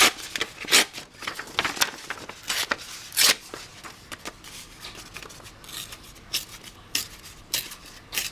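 Paper torn out for collage journal cards, several short sharp ripping and crinkling bursts spaced irregularly, close and fairly quiet, with no talk.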